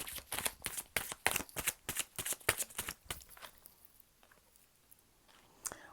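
Tarot cards are drawn from a deck in a quick run of crisp, papery flicks and slaps for a few seconds, then the sound drops to near silence with one last soft rustle.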